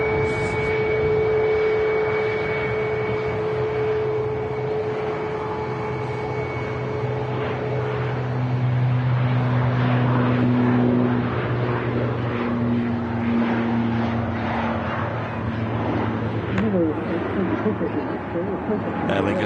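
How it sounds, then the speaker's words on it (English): A SunExpress Boeing 737 MAX 8 taxis out at Manchester Airport, a steady jet engine whine and hum with sustained tonal lines holding throughout, fairly close and continuous, with a voice talking over it. "Sun Express 737 MAX 8 on the taxi out, heading back to Antalya"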